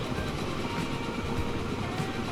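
A long, heavy steam train runs in the Transport Fever 2 video game, giving a dense, continuous rumble and rattle of rolling railcars, loud and steady throughout, with no voices.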